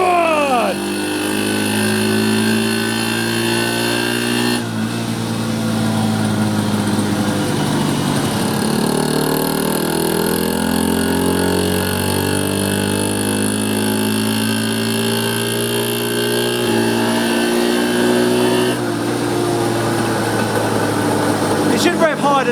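A car engine revs hard on a dyno, its loud sustained note rising and falling in pitch through long pulls, with people shouting and talking over it.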